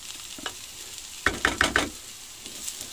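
Mushroom duxelles cooking down in a pan at a camping-car stove, a few bursts of stirring and scraping with sizzle, otherwise a quiet low background.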